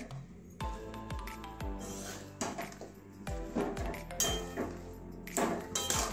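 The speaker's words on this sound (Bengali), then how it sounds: "ভালো করে মিশিয়ে নিচ্ছি।" Spinach and snail curry stirred with spices in a pan, with repeated close metallic clinks and scrapes of a spoon against the pan in an irregular rhythm and soft squishy mixing between.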